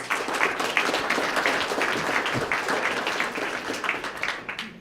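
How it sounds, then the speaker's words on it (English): An audience at a Sarasota Police swearing-in ceremony in February 2018 gives a round of applause, with steady, dense clapping that holds for several seconds and then begins to thin out. "Let's give them a round of applause."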